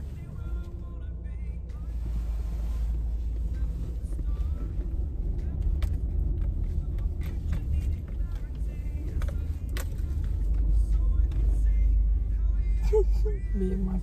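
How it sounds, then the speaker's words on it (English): A car engine hums low and steady as the vehicle pulls away and keeps moving, rising slightly in the later seconds, with faint clicks and rattles from inside the cabin. "gets the vehicle moving"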